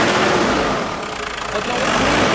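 A Mazda BT-50 pickup engine revs up during diagnostic testing in a workshop, a steady loud mechanical roar that dips briefly in the middle before rising again, with no talk over it.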